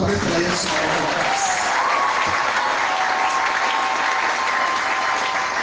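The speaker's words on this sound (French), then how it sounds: "Acclamez Jésus." A church congregation applauds Jesus with sustained, dense clapping that fills the room evenly from start to end, with faint cheering mixed in.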